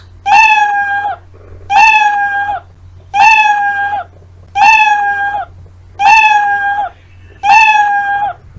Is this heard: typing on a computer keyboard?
no